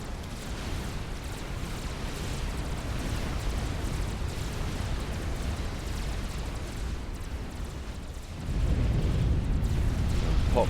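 The Aeon nuclear explosion in the Supreme Commander strategy game makes a sustained roaring rumble that holds steady, then surges louder near the end.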